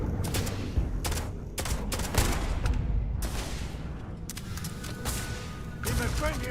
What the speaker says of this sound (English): Nice shot, Sam.